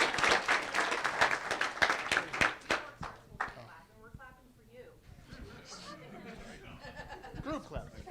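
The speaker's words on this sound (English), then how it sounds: "Group clapping." A crowd at a convention closing ceremony breaks into loud, dense group clapping for a few seconds, then it fades into scattered claps, chatter and light laughter as voices talk.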